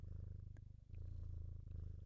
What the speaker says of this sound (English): Yeah, her purring.